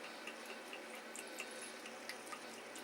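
All-grain homebrew beer slowly poured from a bottle, a faint, steady liquid trickle with small glugs and drips, quiet and close.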